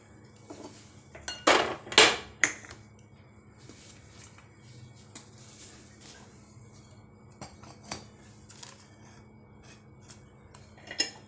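A metal cake tin holding an eggless whole-wheat atta plum cake is set into a preheated kadai, giving a few sharp metallic clanks and scrapes close by early on, then sparse light clinks in a quiet kitchen.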